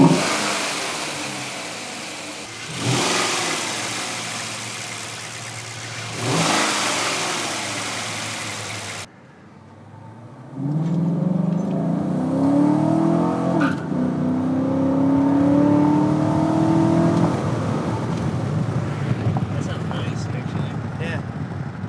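A 2014-2018 Silverado with a 5.3 V8 and an AIRAID 6.2 intake revs under light load from idle to about 1,500 rpm, a steady close engine drone rising and holding, after an earlier stretch of broadband noise with two surges.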